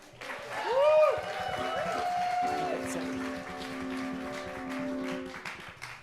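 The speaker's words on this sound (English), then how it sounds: "can we give another round of applause to Becca?" A church congregation applauds during a Sunday celebration service, a steady spatter of clapping running underneath sustained singing or tonal music for the whole stretch, at moderate loudness.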